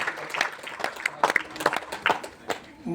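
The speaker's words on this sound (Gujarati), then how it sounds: "તો તાળીઓ તમારી સતત શરૂ રહેશે ને તો ઉર્જા હોલમાં બની રહેશે" Audience clapping fills a hall at a gathering in Bhavnagar, a steady scattered patter of many hands with uneven bursts, moderately loud throughout.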